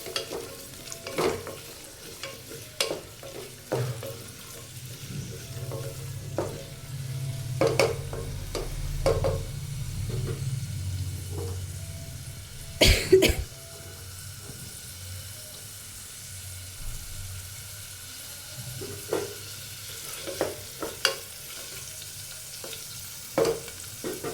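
Onions, curry leaves, chillies and cashews fry and are stirred in a pan for coriander rice, with a spatula scraping and knocking the pan in irregular close strokes over a continuous sizzle that swells midway.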